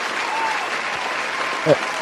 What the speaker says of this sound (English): round of applause for Hoop, man.